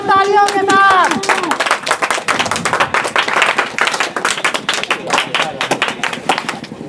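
Students at a Teachers' Day event at Winner Defence Academy clap loudly to welcome their coach onto the stage, rapid uneven claps filling a crowded room, with a voice at the start and a murmur of the crowd underneath.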